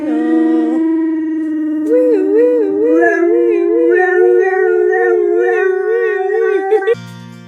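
Pet dogs howling in a long, wavering, sustained song, loud and close, rising and bending in pitch for several seconds before stopping abruptly.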